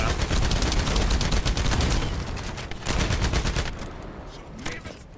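Automatic weapon fire in The First Descendant, a fast stream of shots that rattles on for a few seconds, then breaks into shorter bursts and fades lower toward the end, with no voices.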